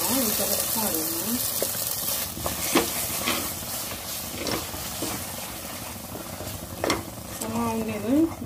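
Masala for Mangalorean chicken ghee roast sizzling in a pan while being stirred, steady frying hiss with scattered scraping clinks of the spoon and a voice speaking at the start and end.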